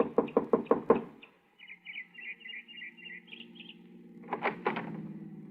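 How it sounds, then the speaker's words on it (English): Five quick, firm knocks on the door of a small house, close and loud, in a radio-drama scene, followed by a brief high chirping and then a muffled rattle like the door opening. "I got her home address and knocked at the door of her small house 15 minutes after she arrived home that evening"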